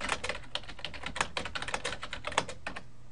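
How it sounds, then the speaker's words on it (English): Keys clatter in a quick, uneven run of typing on a computer keyboard while a chat message is entered, with close, crisp clicks and brief pauses and no voices. "And you could type your message down here."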